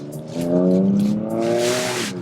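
A car with a straight-pipe exhaust pulls away nearby, a loud rumbling drone rising in pitch through two gear pulls with a brief lift between them.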